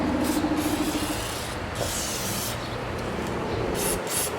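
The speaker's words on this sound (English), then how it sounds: "I'll spray some on the outside of the conduit of my new clutch cable." Steady hissing spray of lubricant onto the outer conduit of a new clutch cable, with a rough, rubbing texture, continuous throughout and close by, with faint mechanical noise underneath.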